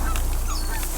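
Geese honking in a short, loud burst of repeated calls during a waterfowl hunt on Prince Edward Island, Canada.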